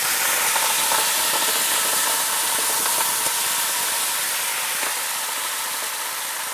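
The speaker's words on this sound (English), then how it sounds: "It's okay, it's just the water reacting with the oil." Escarole greens hit hot oil with anchovies in a pan, giving a loud, continuous sizzle and hiss with scattered crackles, steady and close.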